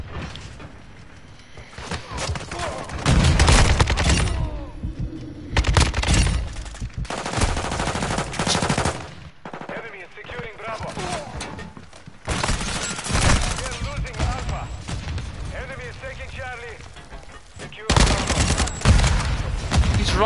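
Dense bursts of rapid automatic gunfire in a video game gunfight, loud and close, arriving in repeated volleys with short lulls between them while excited voices talk over the shooting.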